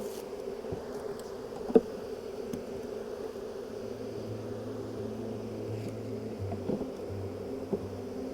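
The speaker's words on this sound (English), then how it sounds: "Let's go to put the bees there." Honeybees hum around open hives on an organic honey farm in Fujairah, a steady low drone close by that keeps going throughout, with a few faint knocks from handling the hive.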